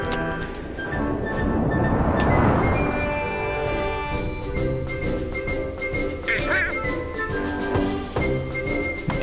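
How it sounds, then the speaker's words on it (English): Donald Duck's raspy quacking voice from the Kingdom Hearts video game, heard amid dense, continuous game music and sound effects at Disney Castle. "Donald Duck."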